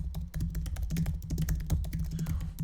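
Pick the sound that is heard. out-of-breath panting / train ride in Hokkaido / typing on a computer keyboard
typing on a computer keyboard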